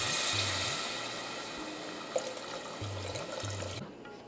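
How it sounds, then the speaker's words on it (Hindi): Water is poured steadily into a pot of mixed lentils for dhaba-style dal tadka, making a continuous close splashing rush that fades slightly near the end. "1 जार करीब पानी डाल चुका हूँ और 1 जार और डालने जा रहा हूँ"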